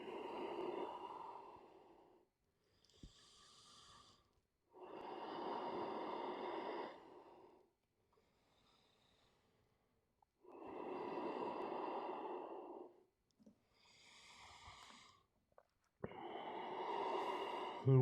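Slow, deep yoga breaths, each long inhale and exhale drawn out over a couple of seconds and separated by short quiet pauses, close and clearly audible with no talking.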